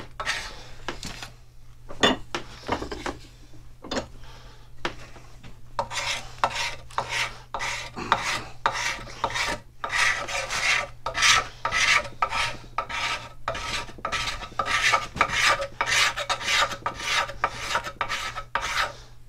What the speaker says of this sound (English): Just want to scrape this varnish